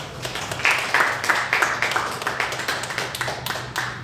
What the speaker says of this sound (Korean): 박수로 축하하고 감사합니다.